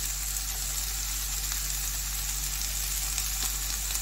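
Capsicum sizzles in hot oil in a frying pan, giving a steady, loud hiss close by with no pauses.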